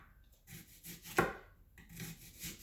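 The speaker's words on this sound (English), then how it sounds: "Now we're going to slice the white onions." A knife slices white onions on a cutting board, quiet rhythmic strokes with a sharper single chop in the middle, close and soft, with no talk.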